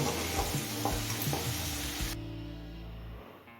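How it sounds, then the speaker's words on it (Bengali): Mete alu potato pieces fry in a pan with a close sizzling hiss and a few stirring knocks. The frying cuts off abruptly partway through, leaving a low, quiet hum. "আলুটা লাল করে ভেজে নিয়েছি"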